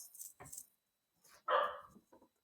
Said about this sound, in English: Pardon my dog if you hear him bark.